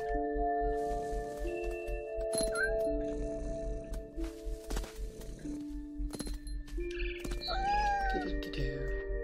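A cat meows in the video game What Remains of Edith Finch, with a few short mews over steady game music and ambient tones, some rising whines near the end.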